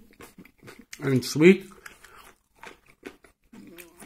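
Crunchy raw kohlrabi is bitten and chewed up close, giving a short burst of crisp crunching between stretches of talk.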